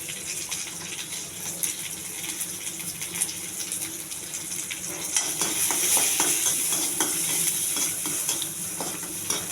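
Garlic frying in hot oil for a spinach tempering, a continuous close sizzle and crackle that swells slightly midway, with faint stirring and no talking.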